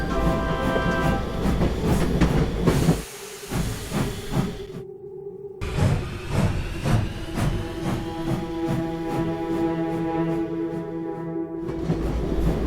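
Toy train engine from an animated Thomas & Friends short shunting and bumping railway trucks: steady rhythmic clanking and hissing steam puffs with periodic clicks, a brief pause midway, then resuming with a musical tone overhead.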